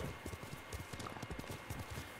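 Horse hooves gallop in Ghost of Tsushima, a fast, steady clip-clop of hoofbeats that runs without a break, close and fairly loud.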